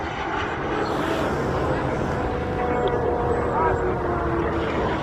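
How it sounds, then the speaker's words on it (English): Radio-controlled model airplanes fly at the Joe Nall meet during electric line combat, their steady motor and propeller buzz droning continuously at a fair distance, with indistinct voices in the background. "We've got planes of all sizes here."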